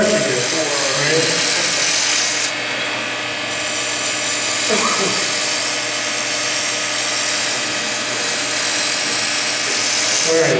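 A skew chisel slices wood on a spinning lathe, giving a steady, dense hiss of cutting that runs the whole stretch over the constant whir of the machine, with a person talking intermittently underneath.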